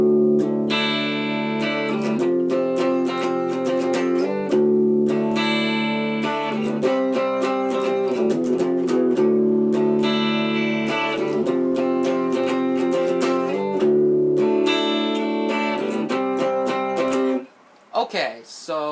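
Guitar plays the pre-chorus of a song with a loud, sustained, distorted tone, rhythmic chord strums ringing out steadily, then cutting off near the end.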